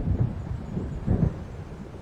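Thunderstorm in the video game Alan Wake: deep, rolling thunder rumbles swell twice and fade, with a steady low roar beneath and no voices.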